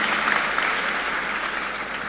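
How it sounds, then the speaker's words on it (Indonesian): Steady, sustained applause from an audience of students at an Islamic boarding school in East Java, a dense wash of clapping that holds evenly throughout with no talk. "Tepuk tangan buat Ridho."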